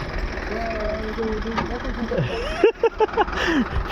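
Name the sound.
tractor engine running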